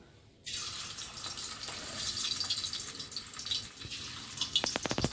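Prawn fritters are dipped in batter and slipped into hot oil, setting off a sudden bright hiss that keeps sizzling steadily up close, with a few sharp pops and crackles near the end.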